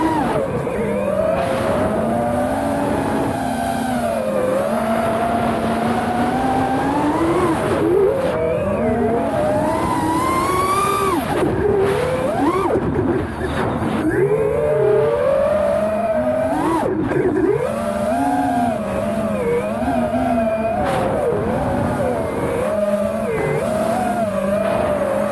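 FPV drone motors whine loudly and continuously through an Insta360 One RS camera microphone, their pitch rising and falling sharply with throttle changes.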